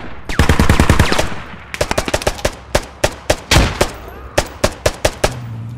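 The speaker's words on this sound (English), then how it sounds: "our PRDM is engaging and suppressing enemy fire" Automatic gunfire in a military shooter video game, with a dense opening burst of rapid shots followed by a steady run of loud, evenly spaced single shots close by and no talk over them.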